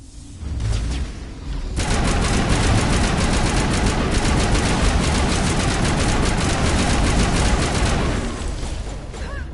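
Sustained rapid automatic gunfire in Mass Effect, loud and continuous for several seconds before tapering off.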